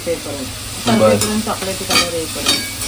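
Onions frying in a pan for chicken biryani, a close sizzling crackle with bursts of stirring scrapes, steady and moderately loud, with no talking over it.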